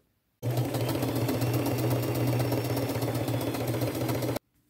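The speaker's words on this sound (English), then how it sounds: "I'm just going to go to my machine, sew them on like I've been doing all the rest" A sewing machine stitching flower and bird appliques onto jeans runs in one continuous, close, even burst of rapid needle chatter and motor hum lasting about four seconds, then stops.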